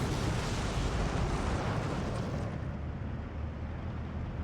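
An artillery barrage in the war game Steel Division 2 fills the scene with a dense, continuous roar of overlapping explosions that thins and fades partway through, with no talking.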